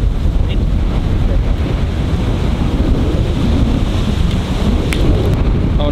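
Strong gusting wind on an open golf course, a loud continuous roaring buffet across the microphone that fills the whole stretch, with no voices.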